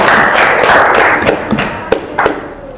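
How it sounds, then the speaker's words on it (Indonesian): A classroom of students claps briefly, a loud burst of applause that thins out into a few scattered hand claps and thuds over about three seconds. "Kasih tepuk tangan dong"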